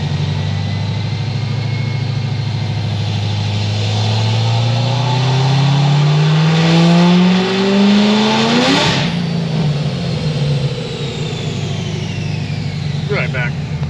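Edelbrock supercharged Corvette C6Z on original tires accelerating hard, engine note climbing steadily in pitch for several seconds, with spinning tires, then backing off and fading, with talk heard over it.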